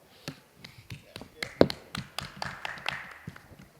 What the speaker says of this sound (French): nous allons tous applaudir encore pour toi